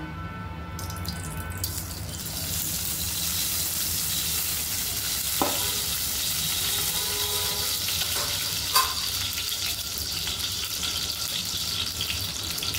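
Oil heats over a low flame in a kadhai, giving a broad continuous hiss close by. A couple of brief metallic taps and clinks break into it partway through.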